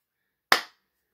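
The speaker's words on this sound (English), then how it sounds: "I need you to clap with me" A single sharp hand clap rings out alone, crisp and close, with a quick decay into silence.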